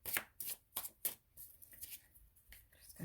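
A deck of oracle cards is shuffled by hand in several quick riffling bursts, close and crisp, with short quiet gaps between them.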